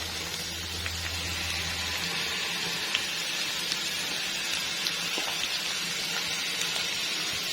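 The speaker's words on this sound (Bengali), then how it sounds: "আমি এই পর্যায়ে এখানে কিছু পেঁয়াজ কুচি দিয়ে দিব।" Chopped onions added to garlic already frying in a pan give a steady, close sizzle that carries on without a break. A low hum fades out in the first couple of seconds, and no one speaks.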